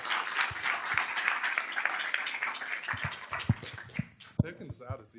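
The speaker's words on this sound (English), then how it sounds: "Let's give another round of applause for all our amazing staff." Applause for school staff at a school board meeting, a dense wash of clapping through most of the clip that thins into a few scattered, louder claps near the end.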